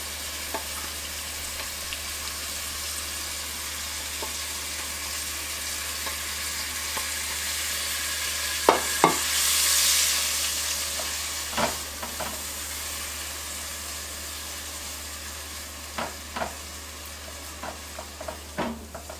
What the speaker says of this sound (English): So if you notice, it's sizzling up.